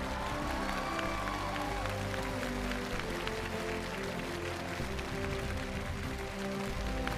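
Studio audience on a Chinese TV challenge show applauding as they stand, a dense, steady wash of clapping from a large crowd that fills the room and holds evenly throughout.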